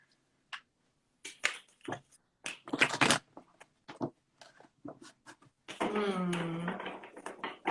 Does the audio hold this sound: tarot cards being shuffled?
yes